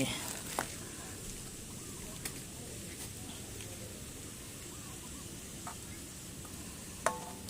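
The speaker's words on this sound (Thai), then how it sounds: "ก็จะผัดพริกแกง ให้หอมสักหน่อยนะครับใส่พริกแกงเข้าไป" Thai curry paste being stir-fried in a pan for a bamboo shoot chicken curry, with a soft steady sizzle and occasional light clicks of the spatula, quiet and close, with no talk.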